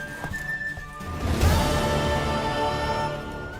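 Horse sounds from the video game The Witcher 3: a sharp whinny rising into a louder passage that is backed by music, with hoof clip-clops under it.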